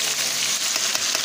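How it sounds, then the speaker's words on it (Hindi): Rice and cardamom frying in hot ghee give off a steady, bright sizzle, close and fairly loud, with a few soft stirring scrapes and no talking. "अब मैं इसमें ये जो चावल हैं ये डाल दूँगी"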